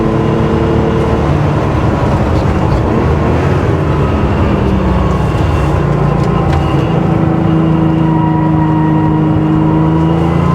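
A 1979 Porsche 911 SC Targa with a freshly rebuilt engine and gearbox drones steadily through its exhaust while driving, a continuous loud engine note with gear-linked pitch shifts and road noise, no talking.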